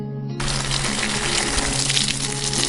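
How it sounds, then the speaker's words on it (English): Water sprays lightly over a rose moss garden bed edged with small pebbles and white stones, a sudden steady gushing hiss that starts after a brief quiet moment and runs evenly to the end. "Step 5. Water lightly"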